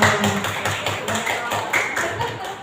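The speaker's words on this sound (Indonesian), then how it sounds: "Tepuk tangan dulu buat Pak Eko." An audience at an Indonesian school event claps in rhythmic bursts, fairly near and moderately loud, with voices audible beneath the clapping.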